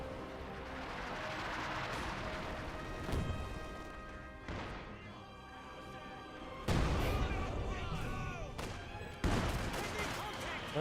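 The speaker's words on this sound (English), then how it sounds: "Does this gun barrage there?" An artillery gun barrage in the Company of Heroes 2 game lands as a series of heavy booms and crashing impacts spread over several seconds, with a commentator talking throughout.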